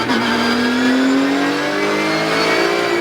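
Porsche Carrera Cup race car at Assen restarting and accelerating away, a loud close engine note climbing steadily in pitch as it gains speed, heard from onboard with no talk.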